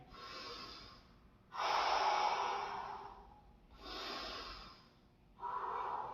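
Heavy, deep breathing of martial arts students winding down after a punching exercise, four long breathy exhales and inhales in a slow, even rhythm, close and fairly loud with no talking.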